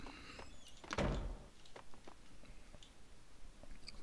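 A door opens in the video game Max Payne 2 with one loud thunk, followed by faint clicks and shuffling in a quiet room.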